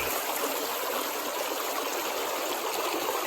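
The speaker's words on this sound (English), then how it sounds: "We got a really good water flow going through there." Steady rushing water flows through a gold prospecting setup at a creek, a continuous bright hiss and splash that stays constant and close with no talking.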